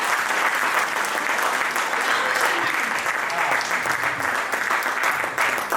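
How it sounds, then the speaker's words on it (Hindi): An audience at a Hindi kavi sammelan gives a welcoming poet thunderous applause, a dense, loud, continuous wash of clapping lasting throughout with a little crowd noise. "एक बार तालियों की गड़गड़ाहट से उनका स्वागत करें"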